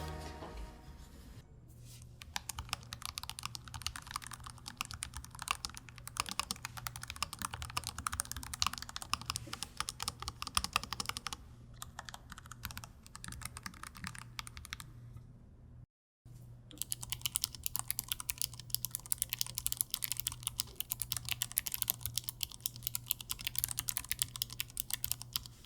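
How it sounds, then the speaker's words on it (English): Continuous rapid typing on an ROG Falchion RX Low Profile keyboard with two layers of silicone foam in its base, dense clicky keystrokes close up over a steady low hum, with a brief gap of silence partway through. "There are 2 layers of silicone foam in the base of the keyboard. Let's see if you can hear the difference."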